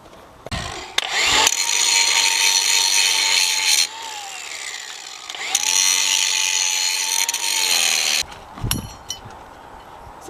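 An angle grinder cuts parts off a Farmall tractor front wheel spindle with a loud, high metallic whine. It runs in two long cuts, each with a slight pitch dip under load, separated by brief pauses and short clunks.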